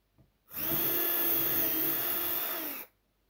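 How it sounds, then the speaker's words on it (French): A power drill bores a hole into a Christmas floral arrangement, making one loud, steady whine of about two seconds at close range, with a short rustle just before. "Et nous allons ensuite percer"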